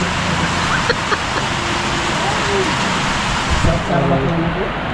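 Steady rain falling with a constant broadband hiss, a road vehicle passing faintly beneath it, and people talking over the downpour.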